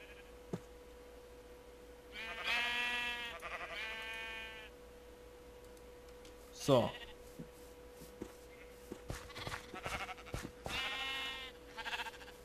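Sheep in the video game Minecraft bleat in several clear, close calls spread through the stretch, with someone talking between and over them.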